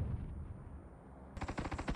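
Gunfire ahead in a battle royale video game on a snowy moonlit map: after a muffled low rumble, a sharp burst of rapid automatic shots breaks out and rattles on loudly to the end.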